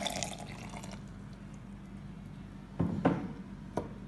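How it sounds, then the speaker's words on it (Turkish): A glass of water is poured over hunger herb (açlık otu) to brew a tea, giving soft splashing and dripping after quiet sounds of handling, with a brief later drip. "Bir su bardağı suyumu da ekliyorum."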